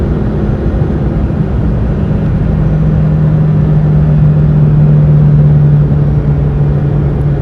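A steady, loud droning hum with a constant low tone runs throughout, a worn wheel bearing whining over road rumble inside a moving 2004 Vauxhall Corsa C.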